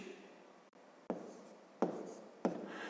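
Pen strokes on paper while writing numbers in a column for a subtraction exercise: three short, distinct scratching strokes, close and quiet, with no voice over them.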